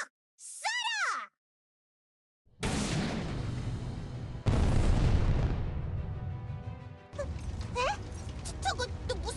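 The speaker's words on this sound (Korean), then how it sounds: "이 녀석들아! 포격이다!" Cannon bombardment in the video game Trickcal: heavy, booming blasts roll in one after another, with a big boom near the middle and sustained rumbling barrage, bracketed by brief high, chirpy cartoonish vocal sounds.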